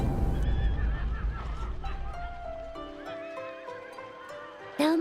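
A horse neighs in the PS4 game Samurai Warriors 4-II, a loud wavering whinny that rises out of busy battlefield noise and ends in a sharp burst.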